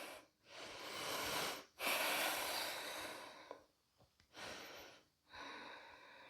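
Slow, deep breaths during a yoga sumo squat pose in a back-care routine. Long airy inhales and exhales come close to the mic, with short quiet pauses between them.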